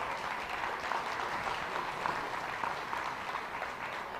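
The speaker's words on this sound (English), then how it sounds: "Let's give these three young ladies a round of applause." A crowd at a county youth fair and livestock show claps for three young ladies, dense, even applause sustained from start to finish with no voices on top.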